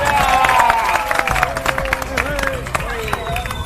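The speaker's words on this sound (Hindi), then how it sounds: "इनके लिए जोरदार तालियां बजा दी" A crowd at an Aam Aadmi Party political rally claps and cheers for the candidate, with brief, loud, close applause mixed with shouts and crowd babble.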